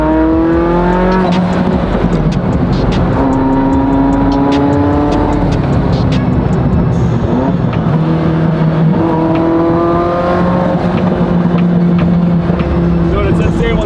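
Ferrari F40 twin-turbo engine revving hard on a road drive, with rising gear-by-gear pitch sweeps, loud and close, and a brief lull between pulls as the turbos build boost.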